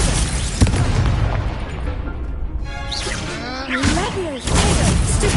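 Blasting-spell explosions boom out in a fantasy video game set at Hogwarts, with heavy continuous rumbling and crashing over whooshing, sweeping effects, loud and dense throughout.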